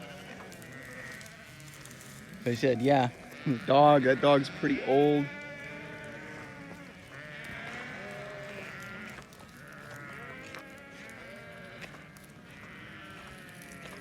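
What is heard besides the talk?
flock of sheep bleating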